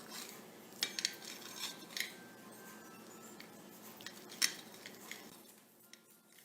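Kitchen clatter while ingredients for chicken jalfrezi are cut: scattered knife and utensil clicks and taps against a board and dishes, fairly quiet and close, with irregular spacing and no talking.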